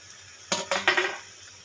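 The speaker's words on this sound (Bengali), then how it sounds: "দু মিনিট হয়ে গেছে এবার আমি ঢাকাটা খুলব" A metal lid comes off a cooking pot with a few quick metallic clinks and clatters close by, then fades to a quiet kitchen background, with no one speaking.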